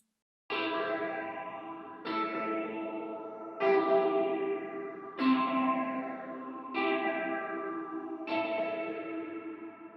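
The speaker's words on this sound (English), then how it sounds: "It's kind of like a lot of stabs, and we have some phaser on that and some reverb" Six sharp brassy stabs hit at a steady pace, each one swirling with a phaser sweep and trailing off into a washy reverb tail.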